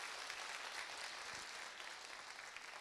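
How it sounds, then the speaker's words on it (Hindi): Audience applause welcoming a speaker at a network marketing gathering in India, a steady rolling clatter of many hands clapping, even and somewhat distant, with no talk over it. "अपने गड़गड़ाती हुई इस करतल ध्वनि से जो मेरा सम्मान बढ़ाया"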